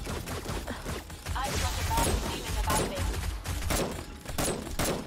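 Automated turret gunfire in the 7 Days to Die video game during a blood moon bunker defense, rapid bursts of loud shots with thuds, mixed under people talking.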